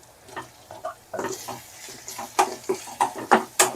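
Green chilies and turmeric stirred in a frying pan, a soft sizzle under irregular scraping and tapping strokes of a spoon that grow louder and more frequent toward the end.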